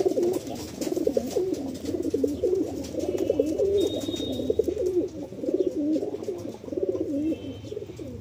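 Pigeons cooing continuously in low, rolling, warbling phrases, close and steady across several seconds, with faint higher chirps and background noise but no speech.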